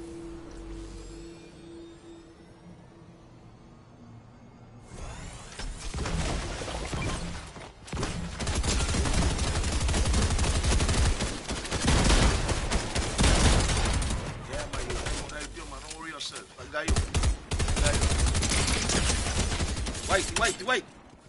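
Fortnite gunfire from shotgun and SMG-type weapons, with dense bursts of loud shots and thumps after a quieter opening, and players talking over the action.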